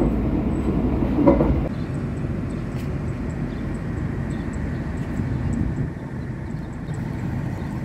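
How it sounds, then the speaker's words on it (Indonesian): Inside the Argo Cheribon passenger train, a steady, close rumble of wheels and carriage noise rolls on without a break, with one slightly louder swell near the start and no voices. "Kereta api Argo Cirebon."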